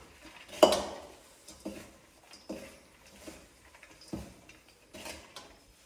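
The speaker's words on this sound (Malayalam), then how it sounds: "നമ്മുടെ ചൊറിയണോ ഈ മസാല കൂട്ടന്മാരെയും കൂടെ വൃത്തിയായിട്ട് ഇളക്കി എടുക്കുന്നത്" Nettle (chooriyanam) thoran being stirred with masala in a pan, giving a series of clinks and scrapes from a utensil against the pan, with one sharp knock near the start and softer strokes after it.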